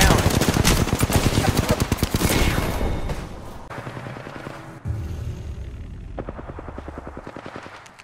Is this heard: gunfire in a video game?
yes